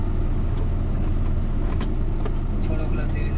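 A car engine idling low and steady in reverse gear while a learner releases the clutch, a constant close rumble with a few faint clicks on top.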